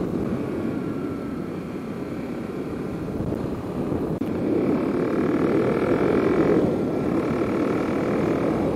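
Kawasaki KLX 300 motorcycle fitted with a new carbon Delkevic exhaust, ridden at dusk, producing a steady, droning engine hum that swells slightly partway through, continuous and moderately loud.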